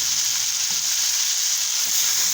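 Ripe guava sabzi frying in a pan with turmeric, red chilli powder, coriander powder and salt being stirred in, a close, continuous sizzle with faint stirring underneath and no talking.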